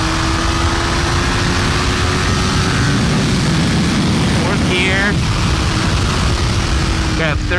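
A 2023 Kawasaki Ninja 400 engine pulls steadily in fourth gear, its tone climbing slowly and mostly buried under a loud, constant roar of wind rushing past.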